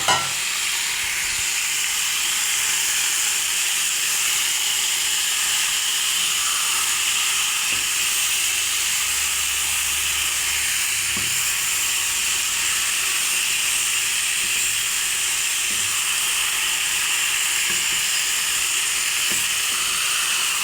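Mustard seeds and fenugreek frying in hot oil for a chicken curry, a loud, continuous bright sizzle and hiss with faint pops and stirring, steady from start to finish.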